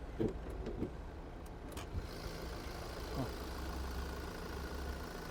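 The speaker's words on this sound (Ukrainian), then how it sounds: "Двигун у нас зараз працює." A Volvo XC60 R-Design engine with 121,000 km idling under the open hood with a low, steady rumble, accompanied by a few clicks and knocks nearby.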